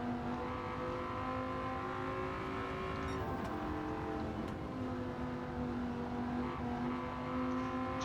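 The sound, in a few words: Dodge Viper GTS-R car engine in Gran Turismo 7 video game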